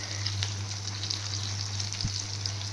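An omelette sizzles in a frying pan with a steady, close crackle, a low hum running underneath and a single soft knock near the end.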